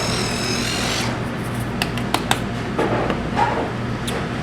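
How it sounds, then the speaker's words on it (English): A small handheld sesame seed grinder crunches and rasps as seeds are ground over a sushi roll, giving a steady close scratching with a few sharp clicks of the mechanism. "I've got this nifty little sesame seed grinder I like to use."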